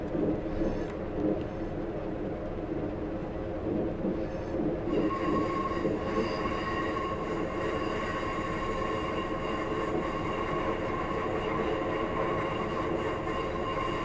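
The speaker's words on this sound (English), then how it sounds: "I've just shut off the power to allow the train to coast until we're able to accelerate further." Rumbling, steady running noise of a Class 142 diesel railbus coasting with power shut off in Train Simulator 2018, Leeds to York via Harrogate, continuous and close with a higher tonal whine joining about five seconds in.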